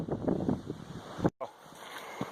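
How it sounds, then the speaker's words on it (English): Strong gusting wind ahead of threatening thunderstorms roars and buffets the microphone with a low rumble, briefly cutting out before returning. "So it's really windy, threatening thunderstorms"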